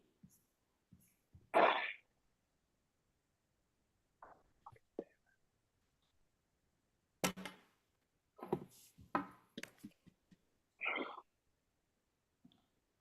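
A person sneezes sharply and close by during a casual trivia game, with a second sneeze later among soft clicks and quiet murmurs.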